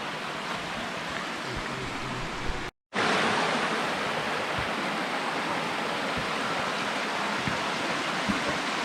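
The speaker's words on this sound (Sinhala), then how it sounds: "වතුර පාරක් ගලා යනවා." Steady rushing of a small stream swollen by rain at Patuna Chasm, Martinborough fills the scene, a broad continuous roar with a brief cut partway through, close and fairly loud.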